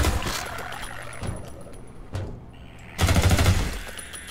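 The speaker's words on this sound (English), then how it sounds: "I'm wasting so many shotgun shots." Shotgun blasts in the modded first-person shooter Half-Life 2 MMod, several loud booming shots with a heavy burst near the end, over busy game background noise.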